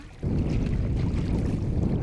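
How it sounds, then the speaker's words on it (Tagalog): Strong amihan wind buffets a small boat out at sea, a loud, steady roar of wind and rushing water that swells suddenly and stays constant, with no voices. "Malakas na hangin ang sumalubong sa amin sa gitna ng dagat."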